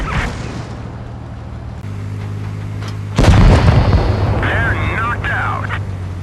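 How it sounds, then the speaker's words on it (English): A Sheridan tank fires a missile in World of Tanks Blitz: a sudden heavy boom with a rushing blast tail cuts through steady background music, while someone talks alongside. "I just started getting good with missiles and doing shots like"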